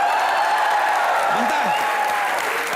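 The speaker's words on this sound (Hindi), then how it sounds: "कमान तालियां" A studio audience at a comedy show claps steadily and fairly loudly, a continuous wash of applause with a faint voice or tone drifting underneath.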